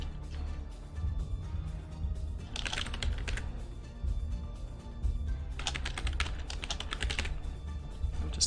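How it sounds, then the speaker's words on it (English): Someone types on a computer keyboard, keys clattering in quick irregular bursts with brief pauses between flurries, close and fairly quiet over a low background hum. "I'm just typing in all the names"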